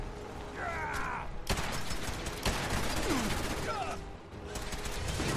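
Kellogg's pistol fired in Fallout 4 lets off a few sharp, loud gunshots, one early and another soon after, each ringing out over game ambience, with a voice speaking at points.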